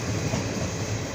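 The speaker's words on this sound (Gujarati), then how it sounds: "સ્પીડ વધારી છે તો જુઓ ખાલી કેમ આગળ હવા સાથે વાતો કરશે એમ દાહે ટ્રેન" A train rolls past close by as it picks up speed, a continuous loud rumble and rattle of wheels on rails filling the scene without pause.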